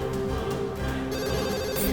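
A telephone rings continuously and loudly up close, a steady electronic bell tone with no voices over it.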